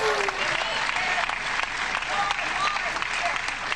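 A crowd at a Trump rally applauds and cheers, a steady wash of clapping with voices mixed in throughout.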